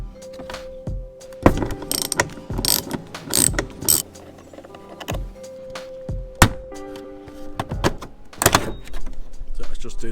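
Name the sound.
undoing a nut to remove car headlining panel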